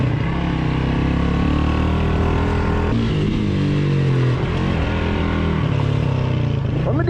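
A brand-new Missile 250 motorcycle with a timing-chain engine runs loud and close, a steady droning roar whose pitch rises and falls slightly as the throttle shifts, with no voices.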